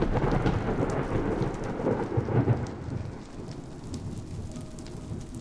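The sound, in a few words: thunder and rain in a video game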